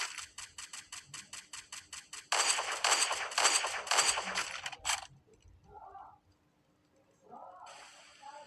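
Video game gunfire going for headshots: rapid evenly spaced shots rattle out for about five seconds, growing denser and louder in the middle, then stop, leaving quieter game sounds and brief blips.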